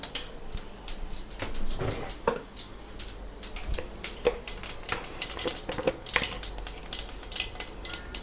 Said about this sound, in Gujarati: હવે આપણે એમાં થોડું જીરું નાખીશું